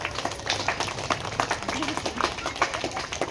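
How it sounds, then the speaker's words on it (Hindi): Teachers and students at an Urdu school's annual day celebration clap to welcome a guest. The hand claps come as a continuous, moderately soft patter of sharp, uneven strikes. "मैं उनको भी असातिज़ा के और बच्चों की तरफ से तालियों के साथ इस्तकबाल करता हूँ।"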